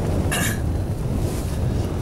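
Strong mountain wind buffets the microphone at a tent camp on Shishapangma in Tibet, a steady roaring rush with a brief sharper gust near the start.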